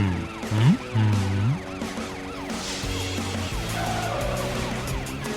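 A cartoon police patrol car wails with a loud, rising and falling siren that sweeps steadily over the clatter of car noise, with no voices.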